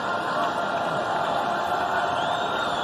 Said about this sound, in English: a sparse crowd, trying to get loud